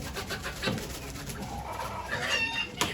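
Porcelain leghorn chickens at a poultry auction in Ankara cluck and call in a busy, moderately loud jumble, with a brief crow-like phrase near the start and a sharp bird call at the end.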